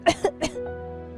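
A few quick, close coughs in a row from a princess in a Hindi animated story, followed by a faint hum.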